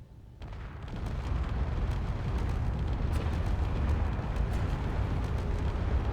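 Ship weapons in Space Engineers fire continuously, a dense roaring barrage of booms and rumbling blasts that builds quickly and holds loud and steady throughout.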